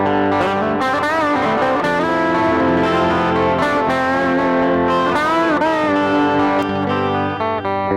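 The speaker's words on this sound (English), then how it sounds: "If I put the distortion on." A heavily distorted electric guitar plays sustained, buzzing chords and bends, thick and loud throughout before cutting off near the end.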